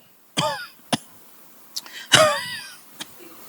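A man imitates an imam's deliberate fake cough with a few sharp, separate coughs and throat-clearing bursts, spaced apart against a quiet background.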